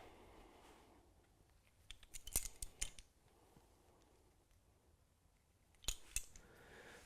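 Crimpers clamp down on a bow string D-loop on a Mathews Lift X 33 bow, giving two quiet clusters of sharp metallic clicks and snips a few seconds apart over a faint background, with no talking.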